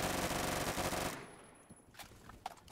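Rapid burst of G11 rifle fire in the shooter game Phantom Forces, a loud dense rattle of shots for about a second that cuts off abruptly, followed by quieter clicks and handling noises.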